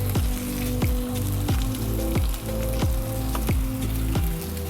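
Edamame charring and sizzling in a hot pan: a steady, close frying hiss, partly masked by rhythmic background music with regular beats throughout.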